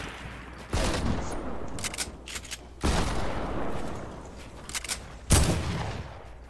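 Gunfire in Fortnite, three loud bursts of rapid shots spaced a couple of seconds apart, with quieter crackling between them and no talk over it.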